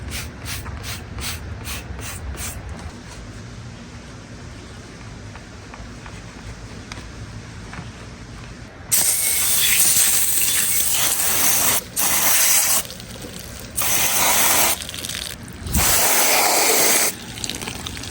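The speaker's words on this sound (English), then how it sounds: "I'm going to wash this motor out some. I have some degreaser in a spray bottle" Spray bottle of degreaser on a 1950s Scott Atwater outboard motor: a run of quick rhythmic trigger squirts, then louder sustained hissing sprays in several bursts with short pauses, close up and no speech.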